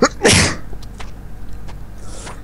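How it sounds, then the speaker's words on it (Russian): A single sharp sneeze, loud and close, followed by faint clicks and rustles during a Minecraft gaming session. "чихнул"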